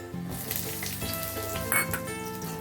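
Large-cut chopped onions hit hot oil with browned garlic while a ladies finger and potato dish is cooked, giving a steady bright sizzle over faint background music.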